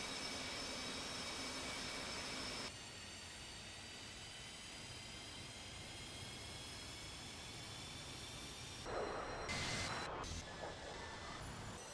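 A jet aircraft lands on a carrier in the DCS flight simulator, a steady loud turbine roar with high whining tones that shifts after a few seconds, then a burst of harsher noise near the end.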